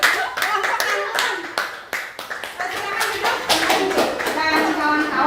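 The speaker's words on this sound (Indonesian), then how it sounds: "bisa diberi tepuk tangan untuk kelompoknya" A classroom group of students gets applause at the end of a chemistry lesson on acids, bases and salts: a lively round of clapping from many hands close by, with children's voices and talking mixed in.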